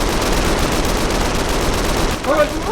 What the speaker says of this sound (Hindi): गोलियां चली।